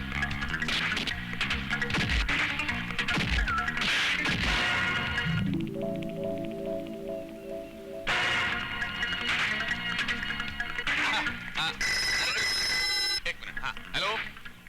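A telephone rings in a Hindi action film scene, its brief ringing tones heard amid loud dramatic music and crashing sound effects, with people talking around it.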